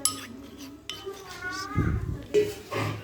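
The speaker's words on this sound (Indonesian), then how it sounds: "kemudian diaduk-aduk di luar seperti ini sampai semua coklatnya benar-benar meleleh." Chocolate bar melting in a pot, stirred off the stove with a utensil scraping and clinking against the metal in irregular strokes, close by, with a voice speaking over it.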